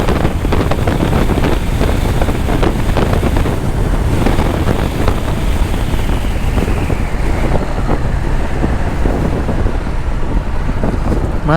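Harley Davidson Street 750 cruiser motorcycle riding at about 100, with loud steady wind buffeting the microphone throughout and the engine's drone buried beneath the rushing air.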